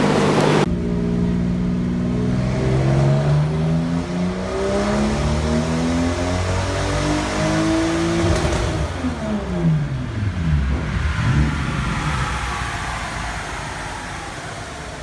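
A Nissan 240SX with a twin-turbo 2JZ engine revs hard on a dyno, a loud continuous roar that climbs and falls in pitch through repeated sweeps, with turbo whoosh layered over the engine note.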